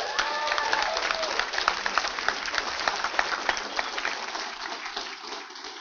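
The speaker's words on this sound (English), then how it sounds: "So especially give them a round of applause." A conference audience applauds sponsors at a hackathon opening, broad sustained clapping from a crowd that fills the room and slowly thins toward the end.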